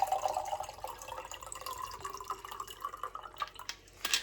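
A shaken honey lemon cocktail is poured into a glass, a faint, steady trickle of liquid that ends in a brief clink and splash.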